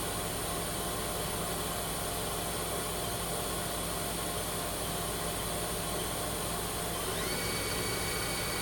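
A 2010 Southwestern Industries Trak LPM CNC vertical machining center with its spindle running at 1000 RPM, a steady broadband whir and hum with faint tonal lines, constant and unchanging throughout.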